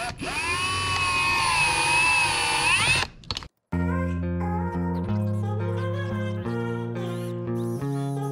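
A power drill drives screws into the top end of a Stihl FS80/FS85 trimmer engine. There is a sustained whirring run with rising pitch, then a brief gap, followed by a series of shorter tonal bursts, all close and loud.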